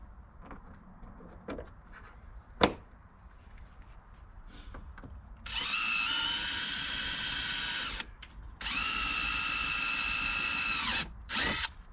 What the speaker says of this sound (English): The third one you drill, please be sure to control your drill.